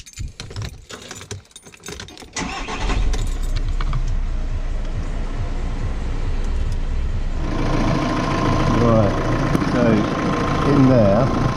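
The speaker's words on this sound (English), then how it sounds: "I've got to start the engine to pressurise the AC system" A VW Crafter van engine idles steadily with a low rumble, pressurising the A/C system, preceded by brief clattering and handling noises; a faint voice can be heard over the running motor.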